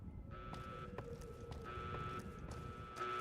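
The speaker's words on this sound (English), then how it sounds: "the two alarms have decided to desync from each other" Two electronic alarms in Fallout: New Vegas blare in repeating buzzing bursts, slightly out of sync with each other, steady and alone without talk.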